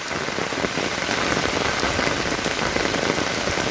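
Steady rain pours down on a hot, parched rural landscape, a dense continuous hiss of drops striking surfaces close by, loud and even throughout with no voices.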